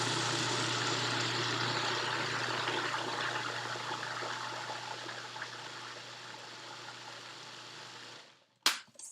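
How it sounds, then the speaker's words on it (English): Food processor blending canned chickpeas into hummus, a loud steady whirring motor with a churning wash of noise that runs continuously, then cuts off abruptly near the end with a clunk. "you begin to blend them and make them smooth"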